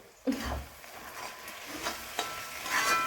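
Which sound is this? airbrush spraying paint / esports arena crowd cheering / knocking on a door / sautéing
sautéing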